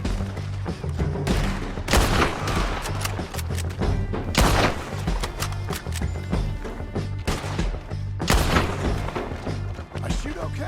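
Gunfire crackles in the video game Red Dead Redemption 2, with sharp bursts of several shots at irregular intervals over a steady, droning game soundtrack.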